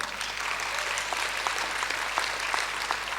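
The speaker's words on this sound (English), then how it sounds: "Let's give them all a big round of applause" Audience at a graduation ceremony applauds with dense, continuous clapping at a steady moderate level, no voices standing out.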